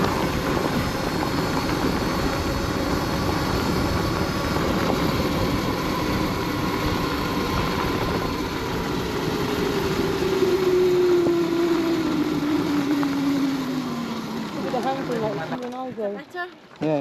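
A Triumph adventure motorbike runs at full throttle off-road, its engine a loud, continuous drone with a rising and then falling pitch as it passes, and a rider's voice briefly heard near the end.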